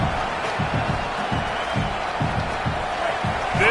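A packed stadium crowd at a college football game, near the start of the season, keeps up a steady, dense roar with rising cheers throughout.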